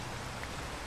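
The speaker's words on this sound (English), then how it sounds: "Sorry about the rain." Rain falls in the Minecraft video game as a soft, even patter, faint and continuous for a moment.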